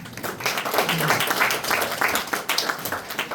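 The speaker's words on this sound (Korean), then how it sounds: "다시 한번 박수 부탁드리겠습니다" Audience applause at a panel debate on regional circular economy and public banking, a burst of dense clapping from a seated crowd lasting a few seconds, fairly close and steady before tapering off.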